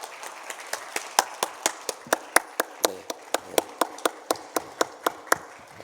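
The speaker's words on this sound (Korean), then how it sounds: "우리 단 때보다도 6배로 뜨거운 박수로 축하하십시다." A church congregation at Sunday worship claps in unison, sharp rhythmic beats about three per second over a softer bed of scattered clapping, steady and fairly close.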